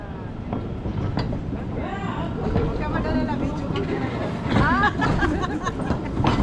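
A small mine train at the Bex salt mine in Switzerland, rumbling and squealing on its rails amid echoing crowd chatter, with people talking close by.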